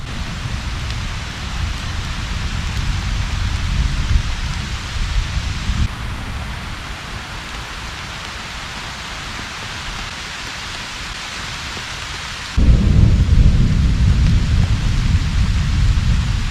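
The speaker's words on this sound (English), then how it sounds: "the storm just hit, so I'm gonna hide under here" Heavy rain pours down in a dense, steady roar, with deep thunder rumbling underneath and a louder surge of downpour near the end.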